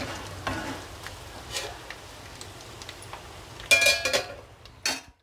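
Pepper chilli chicken pieces fry in a pan over a low flame, giving a soft, steady sizzle with scattered ticks and scrapes, and a louder burst of stirring and clatter near the end.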